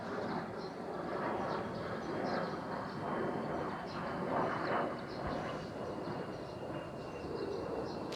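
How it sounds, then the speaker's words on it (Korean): An airplane passes overhead, a loud, steady rumbling roar that fills the whole stretch without letting up. "비행기가 지나간다. 너무 시끄럽겠다."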